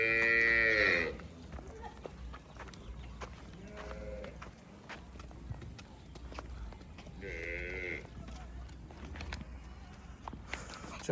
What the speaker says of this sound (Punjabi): ਲਓ ਜੀ, ਇਹ ਵੀ ਕ੍ਰਾਸ ਗਾਂ ਆ ਗਈ ਹੈ ਚੋਲਸਤਾਨੀ ਫਰੀਜ਼ੀਅਨ